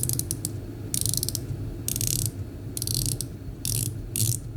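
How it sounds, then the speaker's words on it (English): The bezel of a Shaw Manta quartz dive watch is turned in short bursts, each a rapid run of crisp, close metallic ratchet clicks separated by brief pauses. "That is some sweet ratcheting sound of the bezel."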